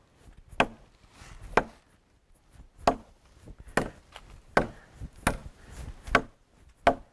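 A knife hacking into solid wood, sending chips and sizable pieces flying, with nine sharp, loud chopping impacts spaced at a steady rhythm of roughly one per second and no talking.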